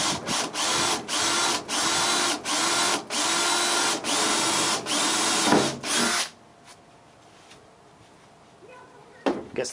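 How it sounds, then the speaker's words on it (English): A power drill bores a series of holes through a truck tailgate, each burst loud and close with short pauses between, about six seconds of drilling before it stops, leaving only faint rustling and a brief knock at the end. "Kind of breezing through these holes for somebody that was a little bit scared of drilling holes in the fucking tailgate."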